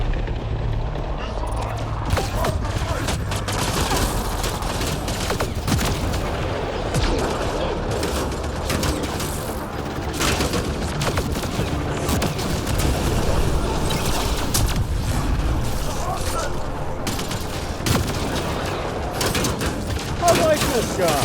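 Sustained gunfire crackles through a Mass Effect Andromeda firefight on Voeld, dense bursts of shots and booms over a rumbling backdrop, with voices heard among the battle noise.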